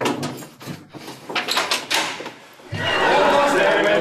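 A door opens with a couple of knocking thuds and a sliding rattle, followed by a loud, sustained rushing noise as it swings open, close by.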